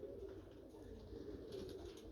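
Vaccinated poultry birds coo softly and faintly in a brief, low, continuous murmur with no other sound over it.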